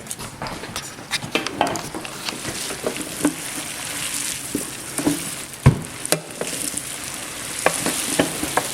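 A mixer churns boudin meat with rice and spices, giving a continuous wet, sizzling swish with irregular clicks and knocks close by, without speech.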